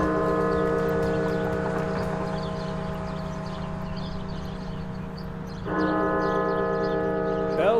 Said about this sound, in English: Bells tolled at the National Cathedral in Washington, D.C., marking a grim milestone in the pandemic.